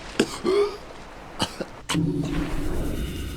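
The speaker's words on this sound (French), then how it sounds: "J'étais en train de tousser" A few short, scattered coughs from a nearby person, mixed with a brief vocal hum and low background noise during a video game session.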